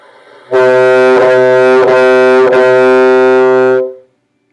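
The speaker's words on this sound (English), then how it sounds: "to articulate on the bassoon, we're going to touch our tongue to the tip of the reed as we blow" A bassoon holds one low note, broken into four tongued segments by brief tongue stops, loud and close.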